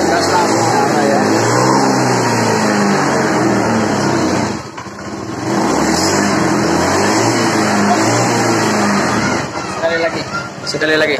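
A Honda Beat scooter engine with a faulty fuel injection system starts and revs repeatedly, loud and close, with rising and falling throttle bursts and a brief dip near the middle.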